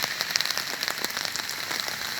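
Rain pattering on an umbrella on a rainy Sunday, a dense, steady spray of light taps close overhead with a few sharper drops standing out, and no voices.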